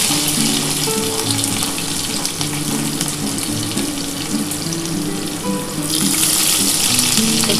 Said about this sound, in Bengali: এবার আমি কিন্তু রসুন ফোড়ন দিচ্ছি।